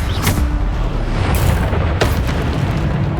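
A Bombarda spell explosion in Hogwarts Legacy, a loud deep boom that rolls on with rumbling debris, followed by a second blast about two seconds later, close and with no talk.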